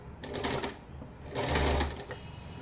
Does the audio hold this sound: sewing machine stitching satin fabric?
yes